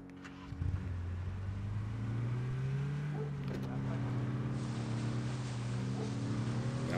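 A car engine drones steadily and shifts pitch as it drives in PUBG on the snowy Vikendi map, with someone talking over it throughout.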